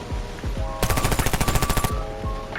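A rapid burst of P90 Custom submachine gun fire in the video game Warface, about a second of loud, evenly spaced shots over a steady background hum.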